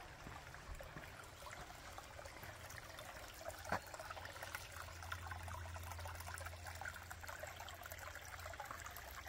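Spring water trickles steadily and quietly at a spring house in a Wisconsin state park, a soft continuous babble with occasional small splashes and a low hum in the background.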